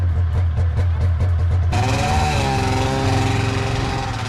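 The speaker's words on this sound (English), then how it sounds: "Nice thing about those two-stroke engines, you always know where your kids are." Two-stroke engine running loud and near, starting as a pulsing low buzz, then shifting to a higher, harmonically rich drone that holds steady.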